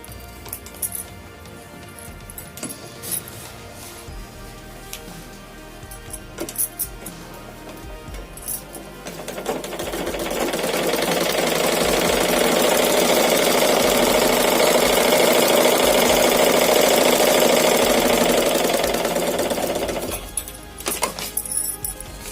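A tailoring sewing machine runs steadily for about ten seconds, a loud, continuous whirring stitch at a set stitch distance, bracketed by scattered clicks and handling noises before and after.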